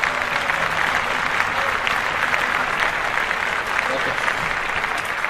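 Steady, dense clapping from a sizeable audience, continuous and fairly loud throughout without a break.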